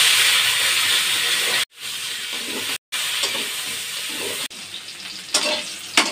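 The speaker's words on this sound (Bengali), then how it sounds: "মাছ ভাজার পরে যে তেল আছে, এই তেলে আমি কপিগুলো ভেজে নেব।" Fresh winter cauliflower pieces fry in leftover fish oil, a loud, steady hiss and sizzle with brief breaks and a few sharper crackles near the end, and no talking.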